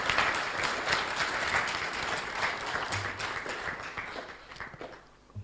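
Sustained applause from a large crowd welcoming a president-elect, dense and steady, gradually thinning slightly toward the end.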